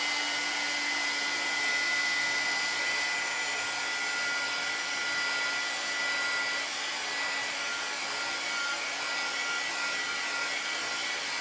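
Steady, loud whooshing hiss of a handheld dryer blowing on painted ski ornaments, continuous and unchanging throughout with no voices.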